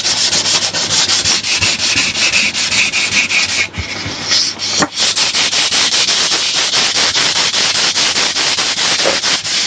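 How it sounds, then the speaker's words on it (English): Fine sandpaper rubbing back and forth across a Phase5 BPPC2 circuit board, a steady close scratchy rasp in even strokes for the whole stretch, with a couple of brief knocks midway. "I'm using the fine paper here to not damage too much of the traces, so we can scan it."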